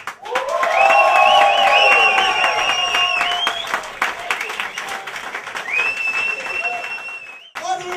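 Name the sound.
audience whooping, cheering and applauding for a comedian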